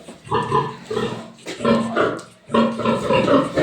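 A pig squeals loudly in three long, harsh bursts separated by short pauses, close and alone, with no other voices over it.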